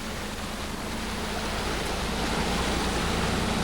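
A 4x4 vehicle ploughs through deep water, pushing a bow wave ahead of its bumper; a dense, continuous rushing wash of water fills the scene, loud and close without pause.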